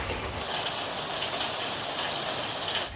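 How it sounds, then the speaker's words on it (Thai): Steady rain patters and hisses on a surface, dense and unbroken throughout, with no one speaking. "จะได้ยินเสียงฝนตลอดเลยใช่ไหมคะ"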